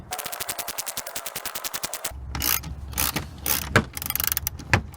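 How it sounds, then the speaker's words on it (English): A ratchet wrench takes out a 10mm bolt from a Toyota Camry bumper, giving a rapid, even clicking for about two seconds, followed by louder clanks, rattles and handling noises close by. "we're taking out a 10mm bolt"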